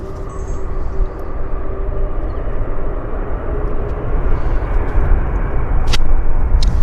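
A fixed-wing airliner roars down the runway on takeoff at Vancouver airport, a steady broadband engine rumble that swells slightly toward the end, close and loud with no talk over it.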